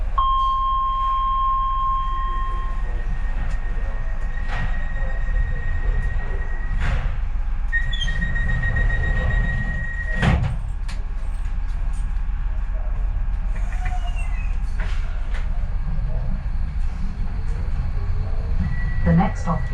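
London DLR train running between stations, a steady low rumble of wheels and motors throughout with faint squeals and high whines, under occasional announcements.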